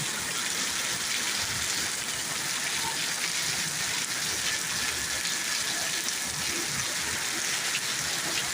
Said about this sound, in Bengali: আর বাগানের দিকে যে কীভাবে বৃষ্টি দিতে আছে।